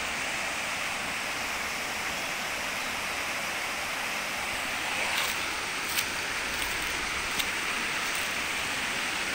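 Steady, dense roar of rushing water from the Deai Falls in Takada, Shingu, Japan, heard up close, a continuous broadband wash with no pauses.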